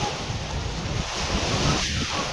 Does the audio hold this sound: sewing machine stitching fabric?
no